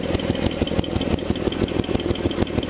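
The engine of a 1975 Sears Suburban ST16 lawn tractor idles with a close, steady, rapid chugging. The drone is even and unbroken, with no voices.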